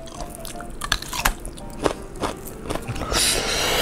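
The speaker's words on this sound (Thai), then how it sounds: "วันนี้มีราดิชมากินด้วยครับ" Someone bites into and chews crunchy radish during a spicy squid and tofu meal, close, wet crunches and snaps at an uneven pace, ending in a brief louder rustle.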